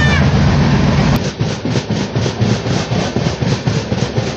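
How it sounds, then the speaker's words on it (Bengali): A moving Samarsata Express passenger train pulls into Jharsuguda junction, its wheels knocking in a steady, loud rhythmic clatter over the rails, with a sharp bang near the start and a continuous rumble underneath. "আমাদের ট্রেন এই মুহূর্তে ঝাঁসুগুড়া জংশনে প্রবেশ করছে"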